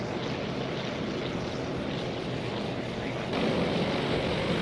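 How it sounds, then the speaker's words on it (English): Propeller aircraft engine drone from a Japanese plane attempting a landing on the carrier Shokaku in a naval combat strategy game, a steady broadband roar with sea-like wash that grows slightly louder near the end. "a Japanese aircraft is trying to land on Shokaku"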